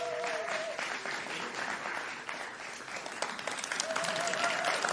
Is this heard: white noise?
no